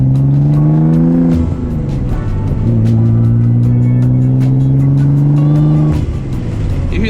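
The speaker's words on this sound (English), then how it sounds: "You hear the turbos more, you hear more of the exhaust." Twin turbo Nissan 300ZX engine droning loudly at steady revs from inside the car, exhaust note holding and rising in long sustained pulls with brief dips between, a faint turbo whine riding on top.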